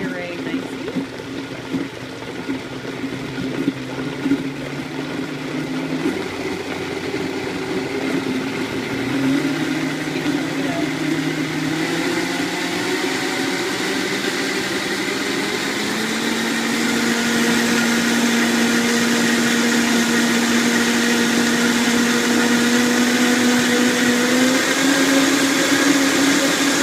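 A blender running steadily and loudly as it purees green Thai curry sauce, the motor pitch rising partway through as the speed is turned up, with a continuous whirring churn throughout.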